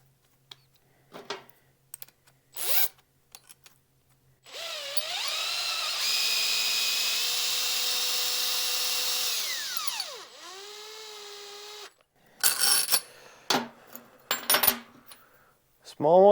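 A steel nut spun down a threaded rod by a power tool, setting up a hot-wire reel for a pasture pen: a steady whirring drone of several seconds with a pitch that slides, framed by scattered clicks and clattering handling noises.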